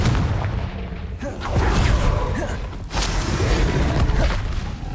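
A Confringo fire spell is cast in the video game Hogwarts Legacy, giving a loud burst of booming, crackling blasts with metallic mechanical rumbles amid ongoing combat effects.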